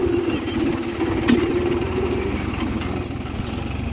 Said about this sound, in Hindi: ये इधर ड्यूस लगभग 1000 आरपीएम के आसपास स्पीड होनी चाहिए